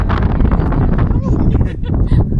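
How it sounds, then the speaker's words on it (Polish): Strong wind blows outdoors across the microphone, a loud rumbling buffet with gusty low roar throughout, and voices talk underneath. "Ale wieje"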